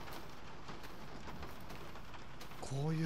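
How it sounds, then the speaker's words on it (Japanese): In the Baker house of Resident Evil 7, rain patters steadily on surfaces with low, muffled rumbling, and a voice breaks in over it toward the end. "こういう時の雨の音はちょっと怖いね。"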